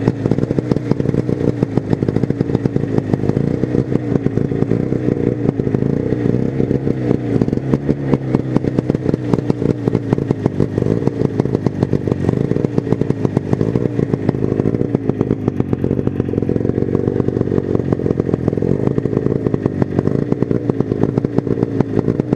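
A 1972 Ski-doo Olympique 399 snowmobile engine runs steadily on too much choke, a loud, continuous two-stroke buzz with a rapid, slightly uneven firing rhythm and no break throughout.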